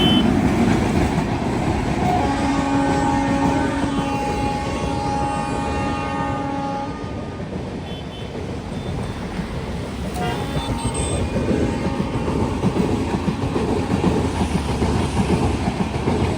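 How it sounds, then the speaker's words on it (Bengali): A train rumbles past on the tracks below a bridge with a loud, continuous roar and rattle of wheels, a horn-like tone sounding briefly, with faint voices beneath. "আমরা ব্রিজের উপরে আর ট্রেন যাচ্ছে নিচে থেকে"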